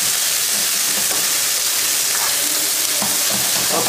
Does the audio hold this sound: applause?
no